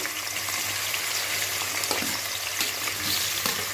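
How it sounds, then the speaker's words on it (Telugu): Potatoes fry in a pan for aloo gongura curry, giving a continuous crackling sizzle with occasional watery splashes and clinks, moderately loud and without talk. "ఫస్ట్ ఆలు కొద్దిగా ఫ్రై చేసుకోవాలండి"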